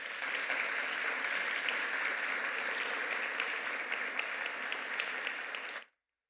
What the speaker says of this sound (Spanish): ¿Cuántos damos un aplauso a ese Señor?